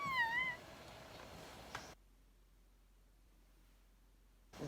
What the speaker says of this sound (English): is that my cat? I'm so sorry. That was my cat.